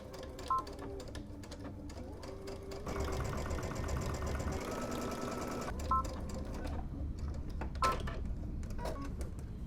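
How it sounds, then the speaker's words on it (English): A sewing machine runs steadily while edge stitching a side of fabric closed, its fast mechanical whir continuous and close, rising slightly in intensity partway through, with a few faint clicks and tones over a low background hum. "So I'm about to edge stitch this one side closed"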